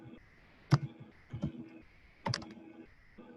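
Keys on a computer keyboard being typed as C code is written, producing a few sparse, quiet clicks in small clusters at close range, with no talk.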